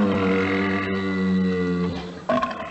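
A loud, long, low-pitched rumbling burp from a radio comedy, lasting about two seconds up close and ending in a short gurgling tail.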